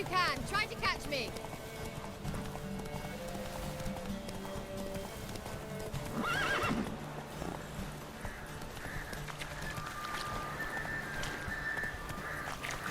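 Horse hooves clip-clop at a gallop with a whinny partway through in The Witcher 3, with game music and someone talking over the action.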